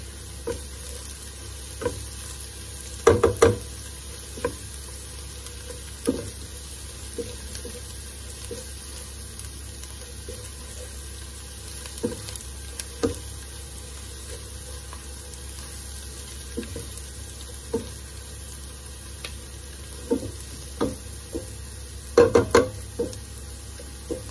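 Garlic sautéing in a pan as the base for pata tim, a continuous soft sizzle with occasional sharp stirring scrapes and clinks of a utensil against the pan, close up, no talking.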